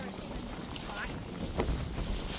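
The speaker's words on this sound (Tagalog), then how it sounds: "Oh, windy." Wind buffets a microphone outdoors during a road trip, a steady low rumble with gusty swells that lasts throughout, with a few faint higher noises in the background.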